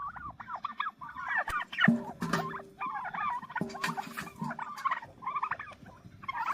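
A flock of turkeys gobbles and chatters steadily while feeding together from a bucket outdoors near a woodland greenhouse site, with a dense overlapping babble of calls and occasional pecking knocks.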